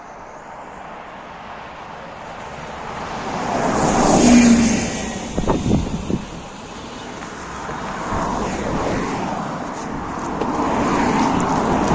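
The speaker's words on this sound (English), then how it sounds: "this bus should arrive in about 10 minutes" A bus on a rural road near Glenarm in the Antrim Hills approaches with a swelling engine rumble, passes close by and fades away, with steady wind noise throughout and no voices.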